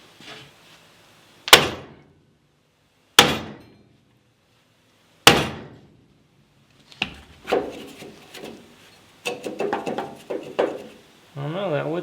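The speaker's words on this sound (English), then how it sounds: "My first idea is sledgehammer" Three heavy sledgehammer blows strike wooden pieces wedged in a steel bumper, sharp loud cracks spaced about two seconds apart, followed by lighter knocks, rattles and clatter, with someone talking near the end.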